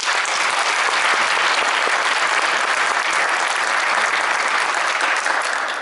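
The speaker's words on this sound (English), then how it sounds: "Feel free to applause for each one." Steady, dense applause from a concert audience honoring graduating seniors at a high school band final concert and awards ceremony, sustained and full throughout with no talk over it.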